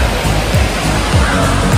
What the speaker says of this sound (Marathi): इकडे तुम्ही पाण्याचा आवाज ऐकूच शकता.